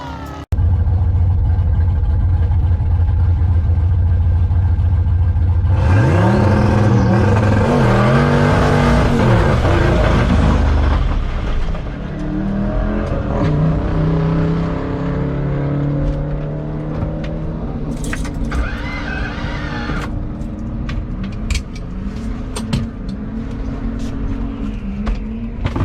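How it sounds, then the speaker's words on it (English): Stock bottom end 351 drag car engine idles with a low rumble, then revs hard and loud before the sound breaks up into a rough, faltering run as the engine fails, with people talking faintly. "I think the engine just went"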